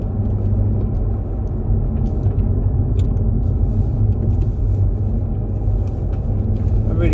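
A BMW M140i with a limited slip differential cruises at normal speed, a steady low engine and road rumble heard from inside the cabin with someone speaking over it.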